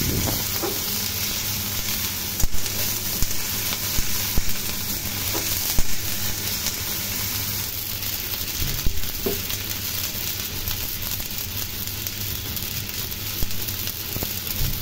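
Chopped onion with onion paste and garlic paste frying in a kadai for a pointed gourd and prawn curry, a steady close sizzle with occasional stirring clinks and no talking.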